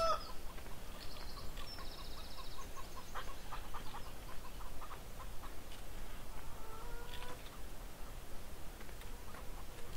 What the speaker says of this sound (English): Okay, chickens.